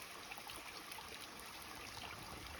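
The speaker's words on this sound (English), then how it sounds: "this is our water source" Water from a stream at a campsite water source by a mountain ridge flows in a steady, soft trickle, constant and moderately close with no voices.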